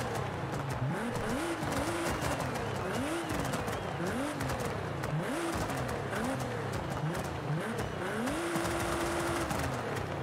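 A Nissan GT-R with a modified exhaust drives by, its engine note rising and falling through repeated revs and one longer held pull, steady and fairly close with voices talking over it.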